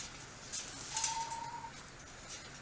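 Chickens cluck and chirp softly nearby while a dog kennel is being turned into a greenhouse. One clear, drawn-out call rises over a quiet outdoor background.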